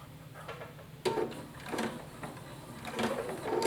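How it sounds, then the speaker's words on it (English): A sewing machine stitches a baby hat in short bursts, stopping and restarting as the presser foot is lifted to pivot, with a steady low hum and clicking needle strokes close by. "sew a couple more stitches and pivot"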